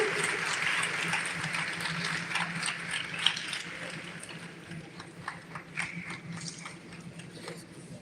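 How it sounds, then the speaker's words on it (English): Audience applause at a live event, a dense continuous patter of many hands clapping that slowly thins out toward the end, with no talking over it. "Can we have a good round of applause, ladies and gentlemen?"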